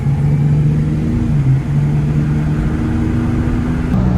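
2007 Ford Ranger pickup truck on a test drive, its engine droning steadily from inside the cab with a constant low hum and road noise, loud and unbroken, no voices.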